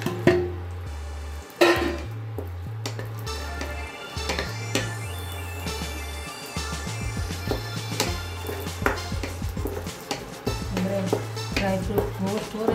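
Dry fruits fry in ghee in a kadai with a light, steady sizzle and occasional clinks of a spoon against the pan, set against a rhythmic background music track.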